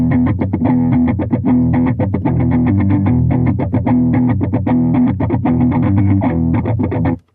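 Electric guitar played through a Headrush Flex Prime with delay feedback set to 100%, using a Bogner Ecstasy 101B amp model: a dense, distorted riff with repeating picked chords that smear into continuous echoes, loud and steady before cutting off at the end.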